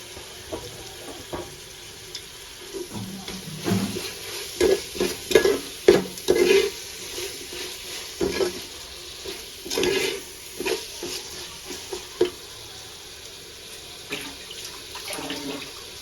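Bagara rice with coriander and mint is stirred and fried in a pan, with irregular close scrapes and clatters over a soft background sizzle and some running water.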